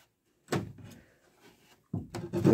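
Door of a homemade workshop cart, still without its casters, swung shut while scraping along the floor: a loud scuffing thump, a fading drag, then a second louder rubbing close near the end, close up with no talk.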